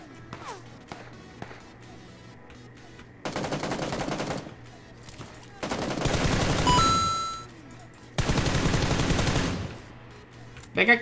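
Gunfire in the PUBG Lite video game: three loud, close bursts of automatic fire with quiet gaps between them, light tapping and footsteps in the lulls, and a brief ringing tone during the second burst.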